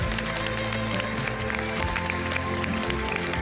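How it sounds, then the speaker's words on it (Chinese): Audience applause at a televised gala celebrating the 40th anniversary of the Shenzhen Special Economic Zone, honoring new builders: steady, dense clapping from a large crowd fills the hall throughout, with music or tones sustained underneath. "也让我们为这些新的建设者们鼓掌加油"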